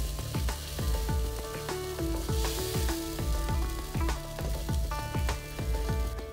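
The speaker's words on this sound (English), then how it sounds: "saute this till oil separates and the tomatoes are nice and soft and mushy" Yogurt and tomatoes sizzle steadily in hot oil for mutton korma, with a spoon scraping the pan in a quick, regular stirring rhythm, close and continuous.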